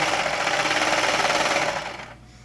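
A serger stitches down the side seam of a knit shirt in a fast, steady mechanical whir with rapid rhythmic chatter, close and loud, then slows and winds down near the end.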